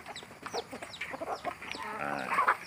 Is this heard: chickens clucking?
yes